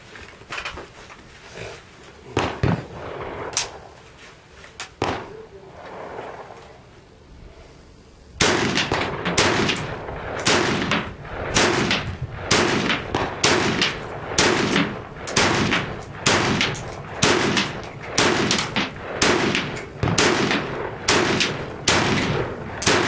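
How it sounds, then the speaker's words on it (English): Rapid bursts of close, loud gunfire from an I.O. AK-47 rifle, with a few scattered single shots early on, then a steady run of evenly spaced cracks that continues to the end. "let's do some shooting"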